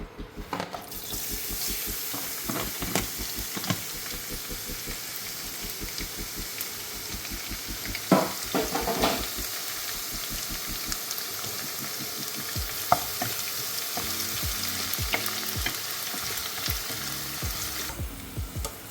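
Garlic frying in hot oil for Kerala chicken pickle, a loud, continuous close sizzle with frequent stirring scrapes and clatter of a utensil, no voices.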